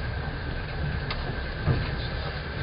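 Passenger train running on rails on a trip to Odesa, a steady, fairly loud rumble with faint clicking and hiss throughout, no speech.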